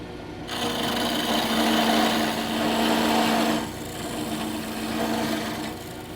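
A wood lathe tool cuts a cove into the shoulder of a spinning wooden tenon, a steady rasping scrape that runs continuously and fairly loud, with a brief dip partway through before it carries on.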